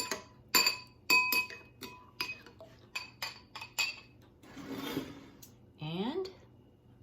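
A spoon stirring a pinch of saffron in a glass, giving a series of sharp close clinks and taps against the glass, then a brief swirl of liquid and a ringing scrape, with a voice briefly heard.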